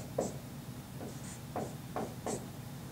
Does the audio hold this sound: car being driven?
no